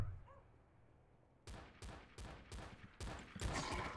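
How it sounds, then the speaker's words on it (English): Faint, distant gunfire in the Garry's Mod game mode The Hidden: a quiet stretch, then a rapid run of sharp shots in quick succession growing slightly louder toward the end. "All I hear is, like, distant gunfire on this map."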